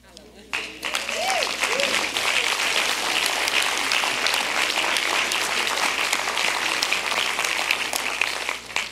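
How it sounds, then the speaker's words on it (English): Applause from a congregation at a sermon swells up after a brief pause and holds as dense, loud clapping, with some voices and cheers rising above it. "Clap."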